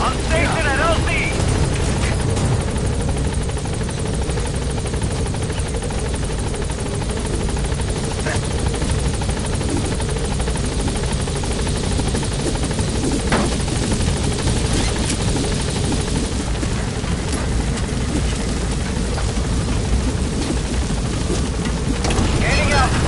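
A support helicopter in the Metal Gear Solid V game arrives, hovers and departs with steady, loud rotor and engine noise throughout, a radio voice speaking over it.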